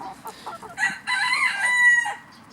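A backyard flock of chickens with new birds introduced to older ones, crowing and clucking together in overlapping bursts at moderate distance, no talking.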